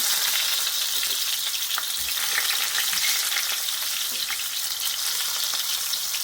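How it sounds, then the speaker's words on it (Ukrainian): Steady, crackling sizzle of eggplant frying in a hot pan, continuous and close, with faint scattered pops and no voices. "Кладемо на розігріту сковорідку і обсмажуємо до повної готовності."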